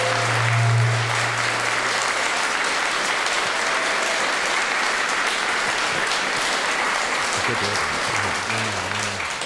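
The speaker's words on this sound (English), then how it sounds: "That's a lot of clapping for just walking on stage." A large crowd at a 2024 general election hustings claps loudly and steadily as a candidate walks on stage. A low hum sits under the opening moments, and faint voices creep in near the end.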